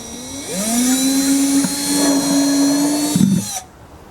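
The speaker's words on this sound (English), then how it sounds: "so it takes just a minute to drill that hole" A power drill bores a hole through the bottom of a plastic bucket, its motor whining up to a steady high hum, briefly dipping, then grinding to a stop, loud and close.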